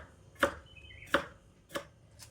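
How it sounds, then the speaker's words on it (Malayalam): Ivy gourd being chopped with a knife on a cutting board, three sharp, evenly spaced chops with a fainter fourth, close and clear with no talking. "നമ്മുടെ കോവയ്ക്ക് അരിഞ്ഞെടുക്കാം."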